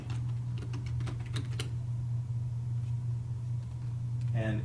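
Fingers tap on a computer keyboard in a short burst of quick clicks, then the keys fall still under a steady electrical hum, with a brief sound at the very end.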